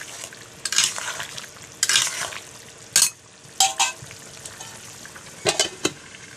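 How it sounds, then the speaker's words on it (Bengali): Fried catla fish is stirred into a simmering curry in a pan, with bursts of scraping and bubbling sizzle coming in uneven clumps and quieter gaps between them, close by. "কাতলা মাছগুলো দিয়ে দেব আর একটু মিশিয়ে নেব"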